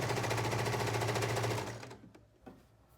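A sewing machine hems viscose fabric in a fast, rapid stitching chatter that runs loud for about a second and a half, then stops, followed by a few soft handling knocks.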